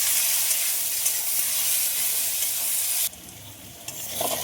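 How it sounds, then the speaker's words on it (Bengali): Spices fried with a sour fruit sizzle loudly in a pan, a dense frying hiss with stirring that drops off sharply near the end, followed by quieter sizzling and a few clinks. "সব কিছু দিয়ে আবারও খুব ভালোভাবে নেড়ে দেবো"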